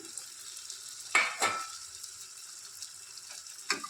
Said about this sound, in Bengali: টমেটো কুচিটা একটু ভালো করে কষে নেব মশলার মধ্যে